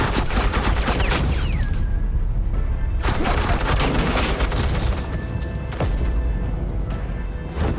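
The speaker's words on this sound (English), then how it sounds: "suppressing fire." Sustained suppressing gunfire in a Batman video game, dense rapid bursts of shots and booms rattling continuously throughout, loud and close, with short pauses between volleys and no talk.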